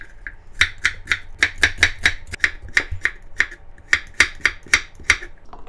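A knife chops carrots lengthwise on a cutting board for stir-fried fish cake with shishito peppers, giving a quick, steady series of sharp, crisp taps close up.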